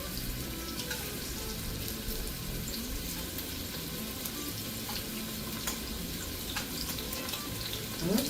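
About a pound of shrimp sizzles in a hot oiled pan for chili lime ramen, a steady close frying hiss with scattered pops and crackles throughout.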